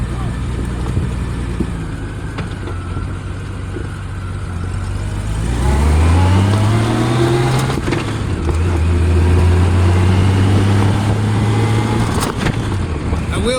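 A Honda Goldwing 1500 motorcycle engine drones steadily while riding on the road, mixed with wind noise; the revs climb in a smooth rising sweep midway, then settle into a loud, even cruising hum.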